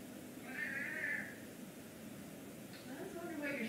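A Savannah cat at a big cat rescue sanctuary gives a drawn-out, wavering meow near the start and another rising call near the end, both fairly quiet, with a person's voice speaking nearby.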